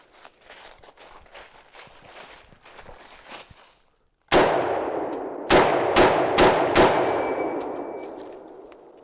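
Several sharp M1 Garand rifle shots ring out at an outdoor range, the bullets clanging off a steel helmet target; a loud first crack is followed by a rapid burst of four or five close reports with a ringing metallic tail, after a stretch of background noise.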